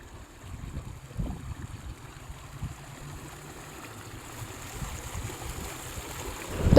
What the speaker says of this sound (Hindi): ये पानी की आवाज़ आप लोग सुन रहे होंगे